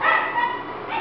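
A single short bark from a Boxer dog at an adoption shelter, close and fairly loud, with no one speaking over it.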